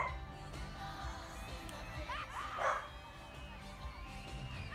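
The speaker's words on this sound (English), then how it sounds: "my dog's not gonna stop barking." A dog barks indoors, a few faint yips rising near the middle under a background of music and room noise.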